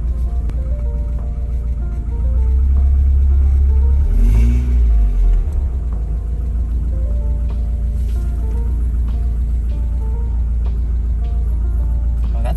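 Mazda Miata engine running close by while the car reverses, a steady low idle with a brief swell of revs partway through before settling back to an even hum.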